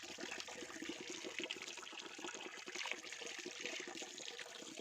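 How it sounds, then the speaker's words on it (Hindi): Cold spring water from the rocks pours steadily from a pipe in hilly terrain, a continuous close splashing and trickling with no voices. "चट्टानों के पानी को कितना तरीके से सिस्टमेटिक ढंग से पाइप के ज़रिए यहाँ पर गिराया जा रहा है"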